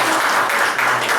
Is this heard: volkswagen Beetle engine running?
no